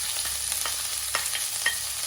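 Long-sliced large onions frying in hot oil with fennel seeds for chicken kurma, a steady close sizzle broken by a few soft stirring scrapes, with no voices.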